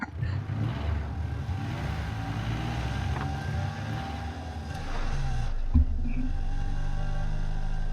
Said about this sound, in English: The roar of the engine smothers the rest of her sentence, and the truck lurches into motion.